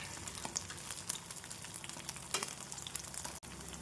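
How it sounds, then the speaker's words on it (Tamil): Paneer shallow-fries in plenty of oil on a dosa tawa over a medium flame, a faint, steady crackling sizzle with tiny pops, heard close with no voices. "நாம் பன்னீரை தோசை தவாவில் போட்டு மீடியம் ஃப்ளேமில் ஐந்து நிமிடம் வைத்து திருப்பி விடலாம்"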